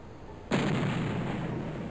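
Grenade explosion in the video game OpenXcom, a sudden loud deep boom that hits hard and then rolls on as a long, slowly fading rumble, with no talk.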